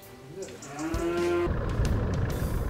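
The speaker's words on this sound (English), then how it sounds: "These are all heifers" Farm heifers mooing, one drawn-out low moo rising in pitch, followed by a denser burst of bellowing and rumbling noise, fairly close and loud.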